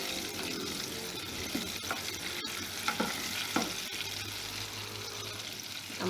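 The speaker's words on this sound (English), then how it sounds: "I'm gonna allow this to fry for like 10-12 minutes." Chicken pieces for Jamaican French fry chicken frying in hot oil, a steady close sizzle and crackle with occasional stirring clinks and bubbling pops, no talking.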